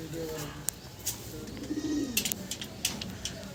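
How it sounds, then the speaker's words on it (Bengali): Breeding pigeons coo softly and repeatedly close by in a loft, with scattered sharp clicks and chirps and a faint voice in the background. "এখানে সব ব্রিডিংয়ের পায়রা রাখা আছে।"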